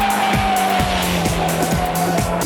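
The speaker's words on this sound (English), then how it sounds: "demonstrates some drifting to the fans in the grandstand" A race car drifts past a grandstand, its tires squealing in a loud, continuous screech over a steady engine drone with repeated pitch sweeps as the car slides.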